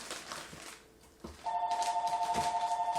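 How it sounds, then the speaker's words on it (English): A telephone in a home kitchen starts ringing halfway through with a steady electronic warbling trill, loud and close, after some quieter household noise. "Oh, there goes the phone."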